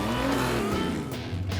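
A race car accelerates hard from a standstill in a match race, its engine roaring loud and close with rising revs, briefly dropping before surging again.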